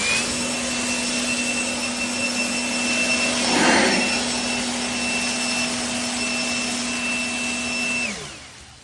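Ryobi 40V battery leaf blower with a narrow nozzle pushing dry leaves over dry ground: a steady whining motor hum with rushing air, a swelling gust partway through, then the motor winding down near the end.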